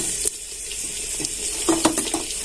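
Water is poured into a pan of ambadi (sorrel) leaves that are cooking with crackling cumin and garlic, giving a steady, close, continuous splashing pour.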